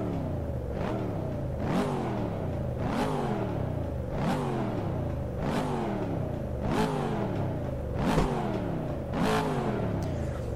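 Chevrolet Corvette C7 Stingray V8 engine in the Assetto Corsa racing game, revved repeatedly: about nine sharp rising throttle blips, each falling back, a steady loud rhythm with no talk.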